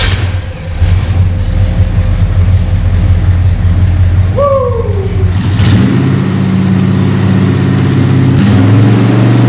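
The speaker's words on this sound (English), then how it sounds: "when you press on the accelerator pedal, it's going to rev the engine" A Ford Falcon XY GT-HO Phase 3 V8 engine idles with a deep rumble, then revs up sharply and settles into a louder, sustained drone.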